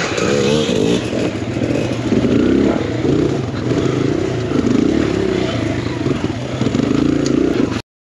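Kawasaki KLX dirt bike engine ridden over slimy roots on an enduro trail, a loud continuous revving drone that rises and falls as the throttle shifts, with clattering, close and constant until it cuts off at the end.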